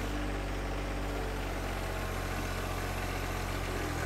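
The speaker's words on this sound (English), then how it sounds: "notice that my right wheel's spinning, so I have to hit Ken's differential lock pedal, then I can go backwards" A compact tractor's engine runs at a steady idle, a loud, continuous low chugging hum with constant vibration, heard close up and alone.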